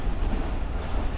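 A Jaffar Express train pulling into platform 5 at a railway station gives a steady, loud low rumble of rolling wagons with no voices over it.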